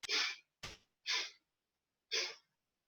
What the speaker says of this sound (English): hopefully you heard me there breathing out through my nostrils